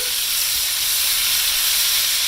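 Swiss steak seasoned with Weber steak seasoning browns in a hot pan, giving a steady, close, loud broadband sizzle and hiss that holds evenly throughout with no talking.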